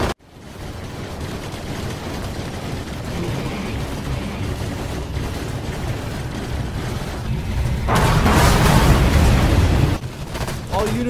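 A Halo tabletop toy battle erupts with staged gunfire and explosion effects, a dense, rumbling barrage that swells into a loud blast near the end while voices shout over the fighting.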